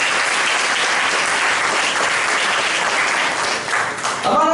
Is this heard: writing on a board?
no